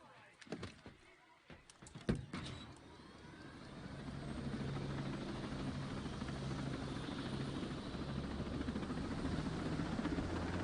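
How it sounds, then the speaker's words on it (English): A helicopter in the video game Ghost Recon Breakpoint starts up after a few clunks and bangs, then settles into a steady whirring rotor drone that holds to the end. "I'm gonna get in the helicopter and hope I don't die."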